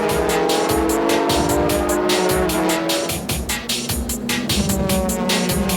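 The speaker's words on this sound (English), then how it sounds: "The third place Yellow Hat Supra was coming down the final straights but just managed to get in front." A Toyota Supra GT race car in the 2004 JGTC series roars past on a racetrack's final straight, its loud high-revving engine note steady, with tire noise and other cars joining near the end.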